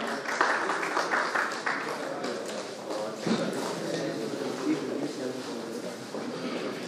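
A crowd at an Urdu mushaira applauds a poet as he is welcomed, a dense, continuous patter of clapping that holds at an even level.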